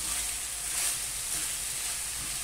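Kanlıca mushrooms fry in a pan with a dense, continuous sizzle and hiss, close and steady throughout.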